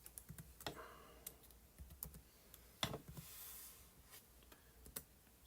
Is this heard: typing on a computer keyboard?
yes